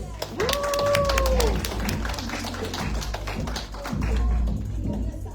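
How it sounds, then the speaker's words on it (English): Audience applause at a pop-up art exhibit and fashion show at a Philippine consulate, a moderate patter of clapping lasting several seconds under an announcer's voice and a brief tonal sound. "A little bit of an applause, please."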